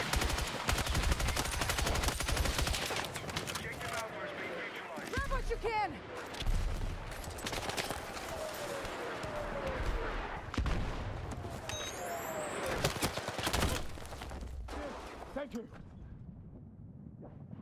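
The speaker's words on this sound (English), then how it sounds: "Oh, teammate started firing over there." Distant rattling gunfire from teammates in the video game Battlefield 6, scattered bursts running throughout under talk and other game noise.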